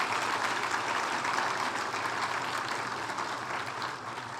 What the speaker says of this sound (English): Can we have one more round of applause for our 3 scholarship recipients?